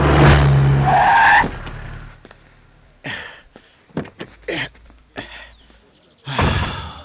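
A car is driven fast with a loud engine roar that fades, followed by a run of sharp tire skids and squeals in quick bursts, and a final surge of engine noise.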